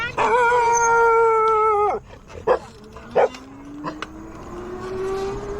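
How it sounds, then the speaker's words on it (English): A group of mixed-breed dogs howls together in a long, loud, wavering chorus, then breaks off into a few sharp barks and yips over a rising engine-like drone. "A lovely little group of mutts."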